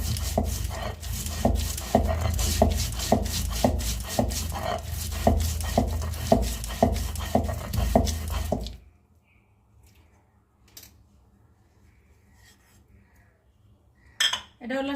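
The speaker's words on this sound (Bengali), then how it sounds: "আর এই যে ধনে জিরে আর গোলমরিচ ভাজি রাখছিলাম সেইগুলো এর সঙ্গে বেটে দিচ্ছি।" Roasted coriander, cumin and black pepper ground into banana flower paste, a steady close rhythm of repeated grinding strokes for about nine seconds, then near silence with a few faint clinks and a brief sharp knock at the end.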